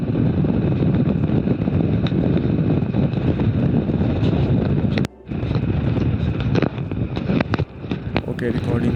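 Himalayan 450 motorcycle ridden at about 90 km/h, heavy broadband wind buffeting and engine roar filling the clip steadily, with a brief dip midway and a voice talking over it.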